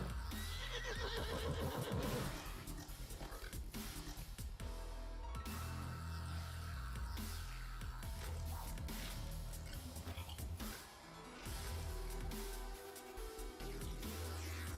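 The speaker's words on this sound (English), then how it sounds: "Oh, here's my war steed. This one right here." A war steed mount in a video game, loud horse neighs and whinnies with hoof clip-clops over busy game music and effects.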